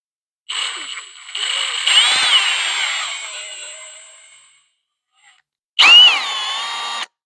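A power drill whirs for about four seconds while drilling during a 383 engine assembly for a 1997 SS, winding down gradually, then spins up again in a short loud burst.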